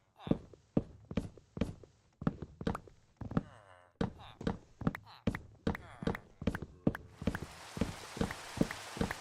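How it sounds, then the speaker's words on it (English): Video game rain patters in a wash of hiss, mixed with repeated blocky footstep thuds and knocks from the character moving around; a voice talks at points. "Yay, it's raining. Love that."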